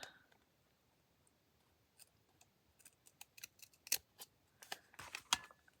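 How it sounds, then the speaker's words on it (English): Scissors trimming a paper flap at an angle, a quiet scatter of crisp snips and paper rustles that thickens into a quicker run of cuts toward the end, close and alone. "let me trim it just a little bit at an angle rather than rounding the corners"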